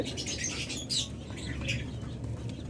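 Caged lovebirds and cockatiels chirping and tweeting close by, with fluttering wing sounds and a low background hum.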